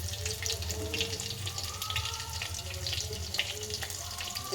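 Cumin seeds and garlic sizzle and splutter in hot oil for a tempering, a dense, continuous crackling hiss close by with no voices.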